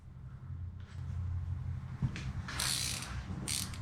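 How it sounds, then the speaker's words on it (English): A ratchet clicks steadily on an engine bolt of a Volkswagen CC during an engine swap, close and fairly loud, with a few sharper metallic clacks near the end and no talking. "You can use any ratchet."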